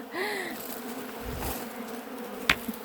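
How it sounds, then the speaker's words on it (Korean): Honeybees buzz around their hive outdoors in a steady, close drone, with single insects passing near and a couple of sharp little knocks near the end. No one speaks. "꿀벌들이 이제 집으로 들어가고 있을 겁니다"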